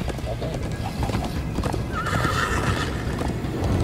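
A horse gallops with rapid, rhythmic hoofbeats and lets out a loud neigh in the Minecraft Story Mode video game, with steady game ambience throughout.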